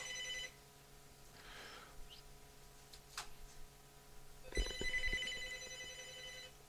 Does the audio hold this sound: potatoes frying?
no